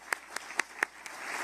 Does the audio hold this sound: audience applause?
yes